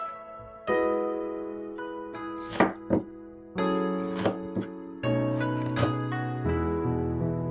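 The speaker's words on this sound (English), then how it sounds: "Next, slice your jalapeños into rings." A knife slices jalapeños into rings on a cutting board, giving a handful of crisp, close knocks spread irregularly over steady background music.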